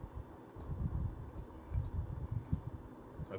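Keys tapped on a computer keyboard while a name is entered into PLC simulation software, a few light clicks in short clusters over a steady low background hum.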